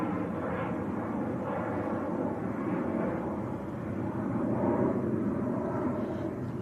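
A small Belgian-registered aircraft, OO-AMR, departing Manchester Airport at speed, its steady broadband engine roar holding loud and even throughout with no talk over it.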